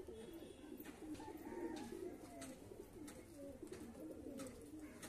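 A pigeon of an old flying breed coos softly and repeatedly, low rolling calls with faint chirps around it, moderately near and fairly quiet.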